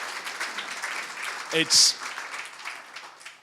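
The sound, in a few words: audience applause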